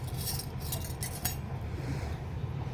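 Metal utensils and plates clink and clatter in a home kitchen while dishes are put down near the tap, a steady run of light chinks and knocks over a low background hum.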